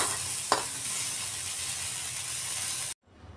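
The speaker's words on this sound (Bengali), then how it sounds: "এগুলাকে কড়া করে ভাজতে হবে না, একটু হালকা ভেজে নিলেই হবে" Shrimp coated in salt and turmeric fry lightly in a pan, giving a steady, even sizzle with one sharp click early on, before the sound cuts off abruptly near the end.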